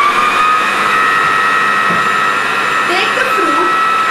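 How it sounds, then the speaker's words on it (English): A Signoracare atta kneader food processor whirs at a steady, loud motor hum with a high whine, running continuously up close, with a faint voice briefly audible over it. "Now switch on the machine."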